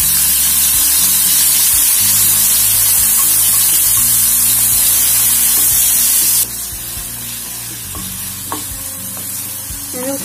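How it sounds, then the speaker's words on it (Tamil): Chopped tomato sizzles and sautés in a hot kadai, with loud, steady frying hiss and stirring scrapes that ease slightly partway through, and no talking. "அதே கடாயில் நம்ம தக்காளி ஒன்று கட் பண்ணியிருக்கோம்ல அதையும் போட்டு"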